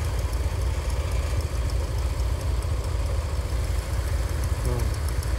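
Garden tractor engine idling steadily outdoors in the snow, a continuous low rumble with engine vibration running unbroken throughout at a fairly loud, even level.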